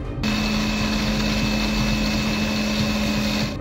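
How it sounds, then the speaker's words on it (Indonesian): An electric blender runs steadily, whirring loud and continuous as it purees a meatball mixture of ground meat seasoned with lime juice, starting abruptly and holding an even, high-pitched motor drone throughout. "langsung aja kita blender"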